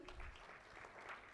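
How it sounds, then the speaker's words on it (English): Brief, soft applause from the audience at a conference inaugural ceremony as a guest is felicitated, a short patter of clapping with some low rumble beneath. "A big round of applause, everyone"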